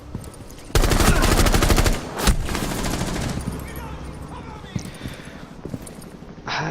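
Rifles fire in Rainbow Six Siege: a dense, loud burst of rapid automatic gunfire, then a single sharp shot, followed by scattered quieter shots and clatter beneath a busy game soundscape.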